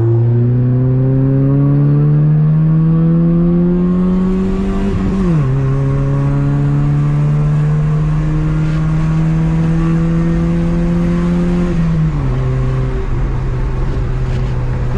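A 1999 Honda Civic with a loud aftermarket exhaust revs hard and close, its engine note climbing steadily, dropping briefly, then rising again in two long pulls, loud and raw with no talking.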